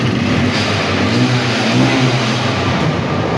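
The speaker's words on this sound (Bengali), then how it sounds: "একবারে হাঙের যে অরিজিনাল সাউন্ডটা" A Hero Hunk motorcycle engine revs up close and loud, its pitch rising and falling in short swells over a steady rumble, with no talking.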